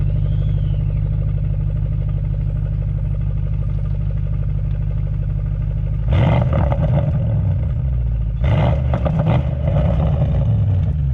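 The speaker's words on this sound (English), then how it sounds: "Let's get a rev. This is a Flying Spur, y'all." A 2024 Bentley Flying Spur engine idles with a loud, steady drone, then is revved hard twice, with a roaring burst around the middle and a second shorter rev near the end.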